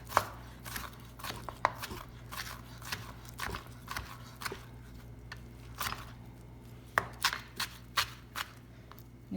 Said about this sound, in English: My grilled shallots, I'm going to chop those up as well